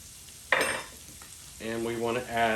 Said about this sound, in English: after the onions have sauteed just a little bit